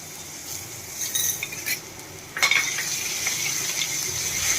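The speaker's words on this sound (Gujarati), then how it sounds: "લસણને બે મિનિટ ખાવા દેવું આપણે" Garlic paste frying in hot oil with cumin seeds and asafoetida for a Gujarati potato dish, a steady close sizzle with occasional light clinks of a spoon against the pan.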